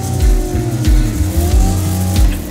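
A car engine revving hard in a street race with its 250-shot nitrous kit, lined up against a white S10, climbing in repeated surges. Loud and close, with no talk.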